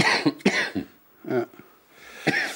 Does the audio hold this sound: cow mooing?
no